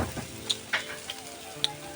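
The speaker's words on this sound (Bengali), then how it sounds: "এখন বেগুন ভাজা হচ্ছে" Eggplant slices frying in oil over a wood-fired clay stove, a soft steady sizzle with a few sharp pops and clicks, close and alone.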